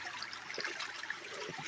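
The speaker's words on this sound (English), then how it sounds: "I'm just gonna rinse this rock" Water splashing and trickling over a garnet-bearing host rock at a mine near Burnsville, North Carolina, a close, steady hiss of rinsing with no voices.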